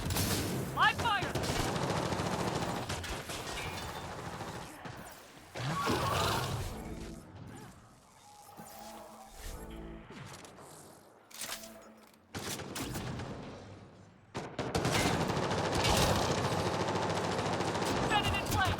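Heavy automatic gunfire in the sci-fi shooter Mass Effect Andromeda comes in loud sustained bursts, breaking off into a quieter stretch of mechanical clatter and then surging back at full intensity.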